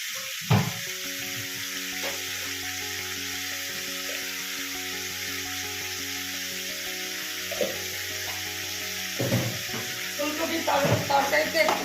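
Cauliflower omelette curry sautéing with sugar in a pan gives a steady, close sizzle throughout, punctuated by occasional clinks and scrapes of stirring that grow busier toward the end.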